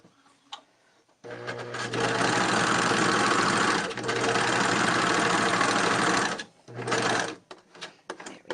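A sewing machine runs in long steady stitching bursts, a loud fast whirring hum with a brief pause before continuing, then a short final burst and faint handling clicks.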